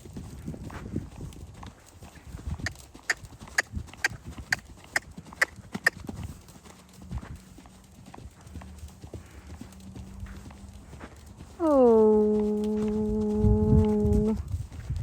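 A pony's hoofbeats on a lunge line, a run of sharp, evenly spaced clip-clops in the first half, fading into quieter movement, then a long loud whinny near the end.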